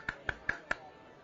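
Four sharp claps from one person's hands, evenly spaced and quick, fairly faint and close, with nothing else sounding between them.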